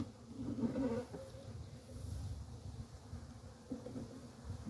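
Disturbed honeybees from a swarm-trap colony being moved into a new hive buzz faintly and steadily close by, with brief swells in the hum and no talk.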